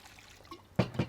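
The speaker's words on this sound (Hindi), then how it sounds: "इस तरह से अनियन को निकाल कर हम इसमें" Water is poured into a dish of sliced onions in a kitchen, a short splashing pour after a quiet moment, close and fairly loud.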